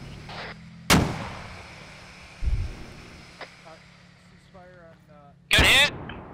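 Rocket launches and blasts aimed at an enemy tank in a combat video game: two sharp, loud booms with rumbling tails a few seconds apart, one duller thud between them, over faint wind and some muffled voice chatter.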